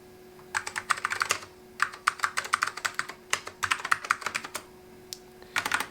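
Bursts of fast clicky typing on a Macintosh SE/30 keyboard, close and fairly quiet, in uneven runs with short pauses between them.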